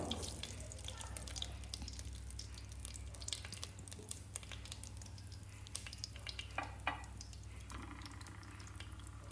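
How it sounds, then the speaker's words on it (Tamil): Cinnamon, cloves and cardamom fry in hot oil for a ghee rice kuska, giving a steady close sizzle with light scraping from gentle stirring and a few brief clinks, no speech. "எண்ணெய் சூடானவுடனே பட்டை, கிராம்பு, ஏலக்காய் 3ஐயும் அதில் சேர்த்துடலாம். சேர்த்து லைட்டாக கிளறி விடணும்."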